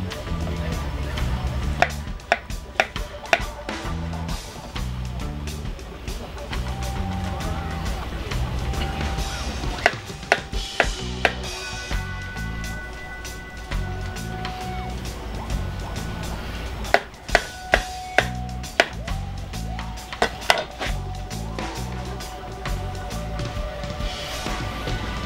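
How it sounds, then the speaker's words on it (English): A knife chops mushrooms on a cutting board in quick rhythmic bursts of sharp taps, close and clear, with pauses between runs over a low kitchen background. "I'm gonna cut up some mushrooms real quick."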